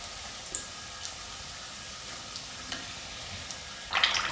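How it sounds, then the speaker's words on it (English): Panko-crumbed chicken samosas deep frying in hot oil, a soft, steady sizzle with faint pops that swells louder near the end as they are stirred or flipped. "I'm just going to deep fry each side for about 3 to 5 minutes until it's golden crispy"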